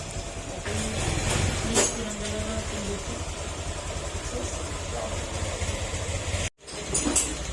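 A Honda Click 150 scooter engine, recently revived after three years unused, idles close by with a constant low hum, briefly cutting out for a moment before resuming.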